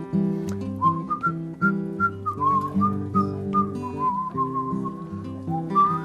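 Someone whistles a bright, warbling bird-like melody imitating a robin's song over a steady musical accompaniment, phrases rising and falling.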